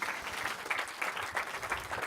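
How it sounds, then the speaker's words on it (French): A room full of people claps steadily, a dense patter of applause that holds at an even level for a couple of seconds. "Vous pouvez applaudir à Thierry"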